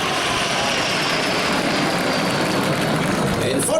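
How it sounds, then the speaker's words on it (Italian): Jet engines of the Patrulla Aguila aerobatic team roar in a broad, steady rushing noise as the formation passes at the Jesolo air show, loud and sustained, with an announcer talking over it. "la pattuglia Aquila si sta preparando per realizzare un'altra Pasada la formazione Aquila"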